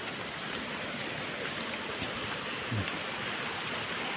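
Strong stream of water rushing steadily downhill after heavy rain soaks the ground, a continuous broadband roar close by with no talk over it.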